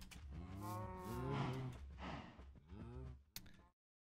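A cow in Minecraft gives a long, low, drawn-out moo followed by a second shorter moo, loud and close, with no other sounds around it.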